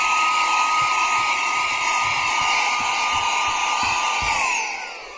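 A steady, high-pitched motor whine of a small cordless brushless car vacuum cleaner runs continuously, then tails off and winds down near the end.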